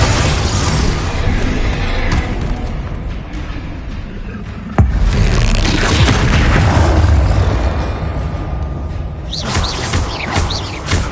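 Bombarda blasting spell going off during a Hogwarts Legacy PS5 battle, a sharp booming burst that cuts in midway through continuous loud, dense combat noise of crashes and clatter.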